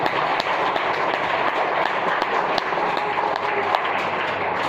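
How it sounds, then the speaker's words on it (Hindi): An audience at a Shiv Puran religious discourse in Narela, Delhi, claps steadily for a child, a dense continuous patter of hands without a break. "ताली बजाओ बच्चे के नाम से।"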